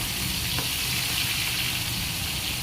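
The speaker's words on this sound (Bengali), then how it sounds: "এই জন্য আমরা তেলটাকে আগে ভালো করে গরম করে তারপর মাছটা দিয়ে দেবো।" Fish frying in well-heated oil in a pan, a steady loud sizzle with a bright hiss, close and continuous, with no talking.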